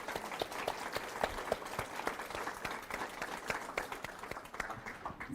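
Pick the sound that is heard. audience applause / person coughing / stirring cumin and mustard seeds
audience applause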